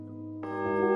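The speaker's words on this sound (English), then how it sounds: "Suddenly, the midnight bell was ringing." A midnight bell rings out, its sustained, humming tones swelling in with a bright new strike partway through, resonant and steady.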